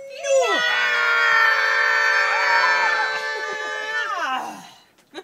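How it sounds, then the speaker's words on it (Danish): Several children scream loudly together on a count at a ten-year-old's birthday gathering, a sustained shrill chorus lasting about four seconds before fading, followed by a brief sharp sound at the end. "Er I klar til at skrige højt?"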